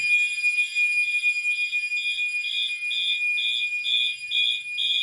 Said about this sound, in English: Continuous 2400 hertz for the Gentex Commander 3.